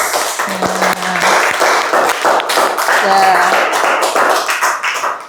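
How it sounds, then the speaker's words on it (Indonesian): A group of children claps and cheers steadily for several seconds in a classroom, a lively burst of applause with voices mixed in. "Tepuk tangan buat kelompok boys."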